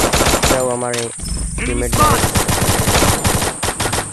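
Rapid bursts of heavy M2 machine-gun fire in a video game, loud and continuous with sharp repeated reports, while someone talks over the shooting.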